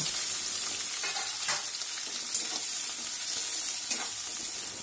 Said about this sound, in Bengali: এবার লঙ্কা আর পেঁয়াজটা আমি ভালো করে ভেজে নেব